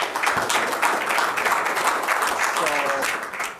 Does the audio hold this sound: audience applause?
yes